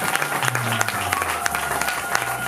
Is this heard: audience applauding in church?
yes